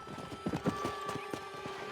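Horse hooves clip-clopping in a steady trotting rhythm with a whinny mixed in, from the video game Red Dead Redemption 2, fairly close and clear with no talking.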